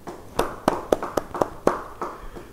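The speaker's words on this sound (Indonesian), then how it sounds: "Yang mau beri tepuk tangan bagi Tuhan." A church congregation claps at a Bible study, with a short burst of separate hand claps in an uneven rhythm that fades after a couple of seconds, sounding somewhat distant and sparse.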